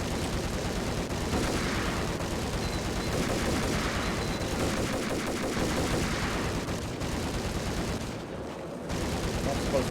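Gunfire in the video game Max Payne rattles on continuously for the full stretch, a dense, loud mix of rapid shots and bursts with a short dip near the end, with a voice faintly mixed underneath.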